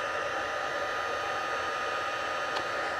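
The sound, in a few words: heat tool drying ink on foil cardstock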